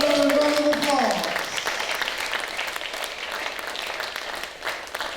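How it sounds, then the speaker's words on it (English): Audience applause at a beauty pageant, a sustained wash of clapping from a crowd that carries on steadily for the whole stretch, with a voice briefly heard over it at the start. "Let's give them another round of applause"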